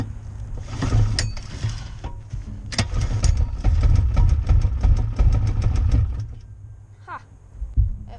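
A 212cc go-kart engine cranks and fires up, running with a rough, uneven mechanical rumble and rapid knocking pulses, close and fairly loud, with a brief gap and surge near the end.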